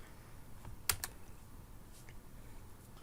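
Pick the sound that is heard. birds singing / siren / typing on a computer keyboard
typing on a computer keyboard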